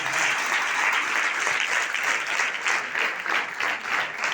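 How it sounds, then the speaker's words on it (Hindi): Steady, dense applause from an audience at a direct-selling leadership gathering, sustained and loud throughout with no talk over it. "जोरदार ताली होना चाहिए दोस्तों"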